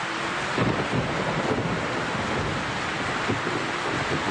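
Heavy rain pounding on a stalled car, a dense, loud, continuous roar with gusty rumbling and no voices.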